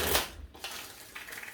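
A deck of tarot cards shuffled during a love reading, a brief close rustling riffle with soft papery slaps and a short pause between bursts.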